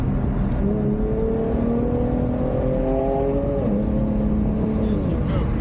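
A modified 500 hp Infiniti Q50S engine drones loudly inside the car, its pitch sliding down as the driver downshifts, with a steady road roar underneath.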